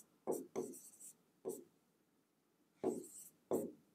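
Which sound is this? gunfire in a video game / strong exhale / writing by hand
writing by hand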